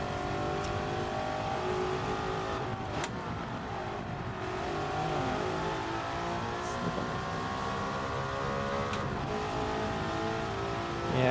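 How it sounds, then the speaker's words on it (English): A car engine in Gran Turismo 7 revs steadily and continuously for several seconds, a sustained moderately loud drone with shifting pitch and no voices over it. "the engine sounds really awesome"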